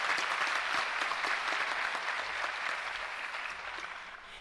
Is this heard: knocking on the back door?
no